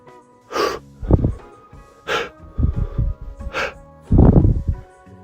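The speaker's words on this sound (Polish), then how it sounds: "Ćwiczenie oddechowe, które polega na tym, że wdycham więcej powietrza niż wydycham" Deep breaths taken as a breathing exercise during a pulse oximeter test: a series of forceful, close inhalations and exhalations through the nose and mouth, some with a wheezy edge, in separate bursts.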